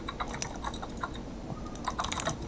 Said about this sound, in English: He's typing so fast.